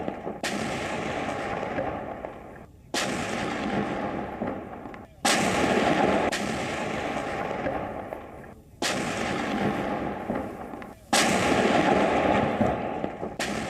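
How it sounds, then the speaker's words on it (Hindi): Heavy gunfire and artillery fire during fighting in Kharkiv, Ukraine: sustained loud roaring blasts that repeat in long rumbling stretches separated by abrupt short breaks, dense and close. "वहीं यूक्रेनी सेना की ओर से फायरिंग की जा रही है खार्किव शहर।"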